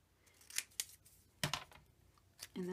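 Several crisp snips of scissors cutting a paper sticker in half, close and quiet, spaced irregularly over a few seconds with a soft rustle at the end.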